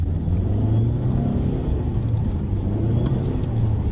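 A 2019 Lexus NX 300h hybrid drones steadily from inside the cabin while driving, a low continuous engine hum with road rumble, even in level throughout and no voices.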